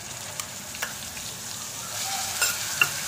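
Onion paste frying in hot oil with cumin and asafoetida gives a soft, steady sizzle with a few light spoon taps and stirring scrapes, close but fairly quiet, no voices.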